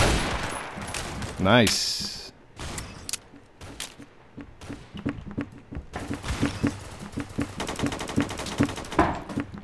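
Gunshots and machine-gun bursts in the Roblox shooter Phantom Forces, with a loud burst early and then rapid repeated firing that builds toward the end. A voice speaks briefly.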